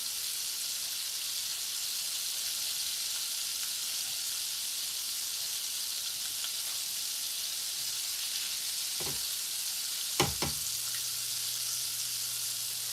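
Chicken frying in oil for Korean fried chicken gives a steady, even sizzling hiss throughout, with a couple of faint clinks near the end and no speech.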